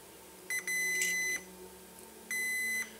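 Two short electronic beeps from a multimeter continuity test, a steady high tone, the first broken and longer, the second clean, close and clear against a quiet background.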